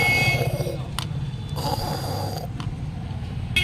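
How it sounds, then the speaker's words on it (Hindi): Cartoon Hulk snoring while asleep, a steady rhythmic rumbling snore with a few short snorts, heard close and moderately loud with no other sounds over it. "हल्क तो यहाँ खर्राटे मार के सो रहा है।"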